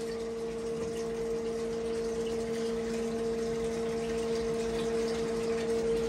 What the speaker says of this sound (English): Now it's gonna suck the water from the bottom of the barrel